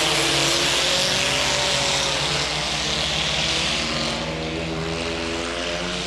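A dirt track race car engine drones loud and sustained as it revs through a sliding corner, its steady roar carrying over the track without a break.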